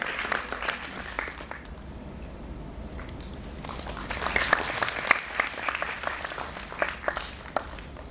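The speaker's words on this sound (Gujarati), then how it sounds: "જોરદાર આપણે તાળી પાડીને આવેલા મહેમાનોનું સન્માન કરીએ." Audience clapping to honour guests at an NRI marriage awareness seminar, a moderate crowd applause that swells midway with sharp individual claps, fairly distant and soft.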